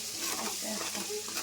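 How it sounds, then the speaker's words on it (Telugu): A fish pickle mixture stirred in a pan, brief close scraping and soft sizzling with a spoon moving through the thick mix. "మొత్తాన్ని ఇలా తిప్పుకోవాలి"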